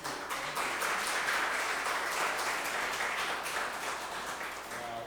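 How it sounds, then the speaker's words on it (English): Audience applause at a school creative writing event, continuous moderate clapping from a crowd in a room, steady throughout and fading slightly at the end. "The rule is you have to clap louder than that."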